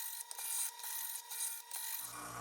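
A knife is drawn through a Chef's Choice Trizor XV sharpener, giving faint, rhythmic rasping strokes in a steady series, close and quiet.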